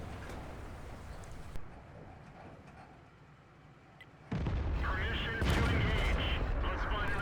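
Heavy tank cannon fire from a World of Tanks battle on the Prokhorovka map: a sharp shot early on, then loud booming blasts with rumbling battle noise, close and powerful, over continuous game ambience.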